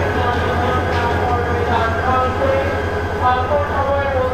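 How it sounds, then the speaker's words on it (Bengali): The Sagarika commuter train pulls away from Chittagong railway station with a loud, continuous low rumble and rhythmic rolling, a voice speaking over the train noise. "এই যে চলে গেল, ছেড়ে দিল এই Sagarika commutator Chittagong railway station থেকে।"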